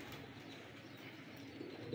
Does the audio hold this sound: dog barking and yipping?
no